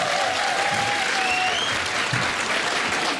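An audience at a televised talk-show discussion claps in sustained, dense applause, close and loud throughout, with faint voices beneath.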